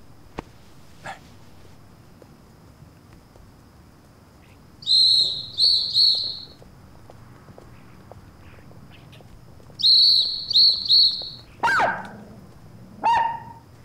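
A handheld whistle is blown outdoors during a search in a drama scene: two bursts of three or four quick shrill toots several seconds apart, with faint scattered sounds between them and no talking.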